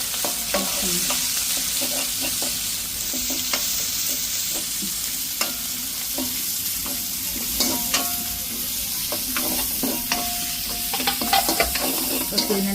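Curry leaves, cumin and green chillies sautéing in a pan: a steady frying sizzle with repeated stirring scrapes and clicks throughout, fairly close.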